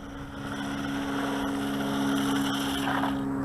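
An RLAARLO 4x4 RC monster truck runs at full throttle, its electric motor giving a steady, buzzing whine that swells slightly in loudness as it goes.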